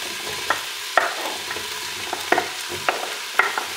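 Courgette cooking with onions in a pan for a cold courgette and cream cheese soup, giving a soft low sizzle under several sharp clinks and scrapes of a utensil against the pan, with no voices.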